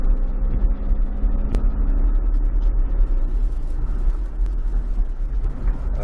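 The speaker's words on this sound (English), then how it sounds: "That was another shift, wasn't it? That's third gear." Car engine, either a PT Cruiser or a Caprice Classic with a possible 4-speed, holds a steady low rumble as it accelerates, with a brief change partway through as it shifts into third gear. The sound is loud and close, from inside the cabin, with no talking.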